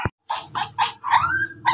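A shih tzu at a stud service session gives a run of short, close yelps and barks in quick succession, loud and unaccompanied by talk.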